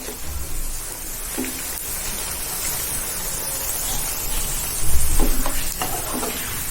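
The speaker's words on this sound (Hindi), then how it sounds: "पकवान को इस तरह दबाते रहे थोड़ा सा, यानी फूलने ना पाए।" Pakwan, a flat dough round for a lentil chaat dish, fries in hot oil with a loud, continuous sizzle close by. Occasional pressing and scraping strokes of a utensil rise over the bubbling.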